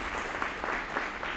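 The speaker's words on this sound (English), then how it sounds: "So please give them a round of applause again" A round of applause at a school award ceremony, steady crowd clapping heard somewhat distant and muffled throughout the short stretch, with no talking over it.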